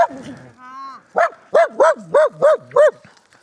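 Dogs bark in a quick run of five or six loud, evenly spaced woofs close by, after a short whine at the start, on a French roadside where several dogs are being walked.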